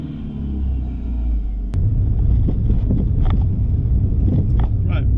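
A Fiat Panda 4x4 with worn suspension drives along with a low engine rumble, then uneven knocks and rattles from the running gear break through, close and irregular, while someone talks faintly.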